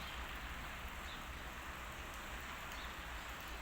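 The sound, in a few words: rain falling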